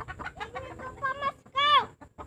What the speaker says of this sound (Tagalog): Itong manok na 'to mga kapatid